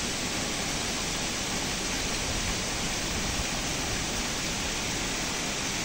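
A small waterfall flows in a constant, dense roar of falling water, heard up close and steady throughout with no voices.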